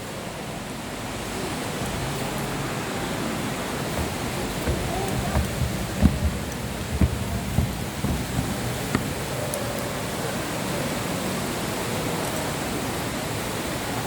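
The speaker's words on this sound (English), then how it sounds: "They probably won't hear it over the sound of water in that tank." Steady broadband rush of flowing water fills the whole stretch, constant and fairly loud, with a few faint knocks and clicks rising above it.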